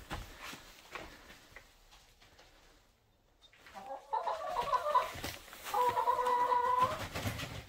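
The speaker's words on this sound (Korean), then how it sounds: "닭이 왔어" Chicken, rooster or hen, clucking after being carried indoors, a quiet start followed by a steady stretch of close, loud clucks and squawks in the latter half.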